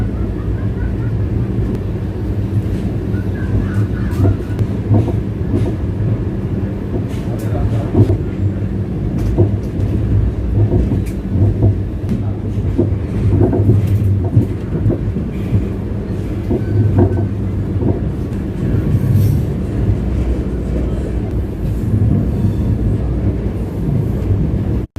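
The 12067 Guwahati–Jorhat Town Jan Shatabdi Express pulls out of Mariani station toward Jorhat after a ten-minute halt, a steady low rumble of wheels and running gear heard from inside the train throughout.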